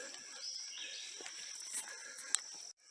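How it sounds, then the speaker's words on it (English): Thin, high chirps and trills from birds or insects fill a quiet outdoor space in a continuous faint chorus. "You hear lots of birds chirping out here."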